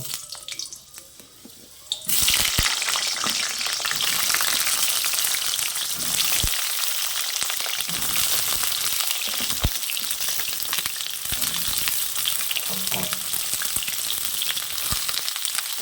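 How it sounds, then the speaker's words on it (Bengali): Pieces of pointed gourd (potol) hit hot mustard oil with a sudden loud hiss, then sizzle steadily and densely up close for the rest of the stretch, with occasional clinks of stirring. "তেল গরম হয়ে গিয়েছে, এবার যে পটলগুলো নিয়েছিলাম সেই পটলগুলোকে আমি ভেজে নেব।"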